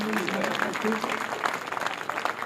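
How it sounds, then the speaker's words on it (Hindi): Audience at an outdoor poetry gathering on a Ram Leela ground claps at moderate volume, with steady scattered applause under a voice speaking early on. "एक बार थोड़ी सी तालियां बजाइए, थोड़ी सी तालियां"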